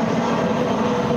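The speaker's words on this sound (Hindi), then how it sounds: "हवाई जहाज जाता" Airplane flying overhead outdoors during a media interview: a steady, loud, broadband engine roar that fills the whole moment without a break.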